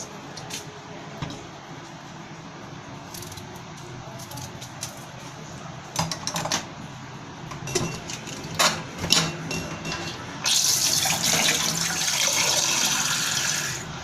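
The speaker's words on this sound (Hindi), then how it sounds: "पानी शामिल करेंगे।" Water is poured into a cooking pot of sliced potatoes, salt and spices, starting as a steady rushing splash about ten seconds in after quieter kitchen clatter and faint taps.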